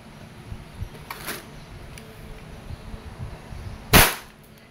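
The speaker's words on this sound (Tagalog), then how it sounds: "Airsoft Gas Blowback Pistol. Okay, testing. Firing." A WE Airsoft 1911 MEU green-gas blowback pistol fires outdoors: a lighter crack followed a few seconds later by a loud, sharp close-up pop with a quick metallic slide snap, over faint background hiss.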